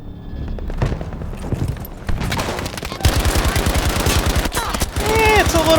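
Rapid automatic gunfire from a weapon in Battlefield V, a steady string of close, loud shots building in intensity with game battle noise around it.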